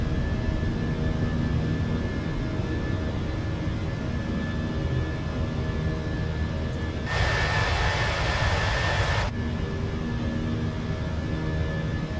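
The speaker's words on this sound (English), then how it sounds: "Listen to those engines roaring." Airbus A319 jet engines in Microsoft Flight Simulator 2020 roar steadily through a takeoff climb, a loud continuous rumble with a brief burst of broadband hiss midway, no talk.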